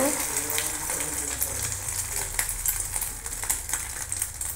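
Beaten egg hits hot white oil in a pan and fries with a steady broadband crackle and sizzle, close and fairly loud, with a few sharper pops and clinks along the way.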